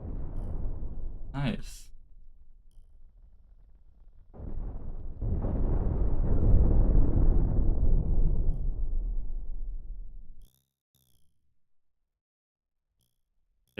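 Nuke launchers are blown apart in a video game: a sharp crack, then a long, heavy rumbling explosion that swells and fades over several seconds, with a brief spoken remark.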